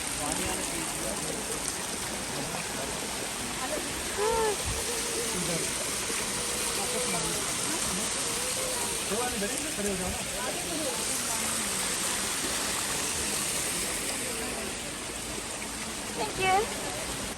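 A waterfall and stream at the Rock Garden in Chandigarh pour out a steady, close, broadband rush of water that holds evenly throughout, with voices talking over it at times.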